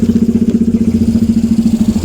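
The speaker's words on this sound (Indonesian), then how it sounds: "Mesin kendaraan dinyalakan." Motorcycle engines started in a village before a ride on steep rough trails, a loud close idle with a fast steady thumping pulse throughout.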